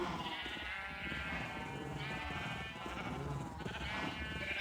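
Sheep in a village-building video game bleat repeatedly, several overlapping wavering calls that sound close and fairly loud, with no talking over them.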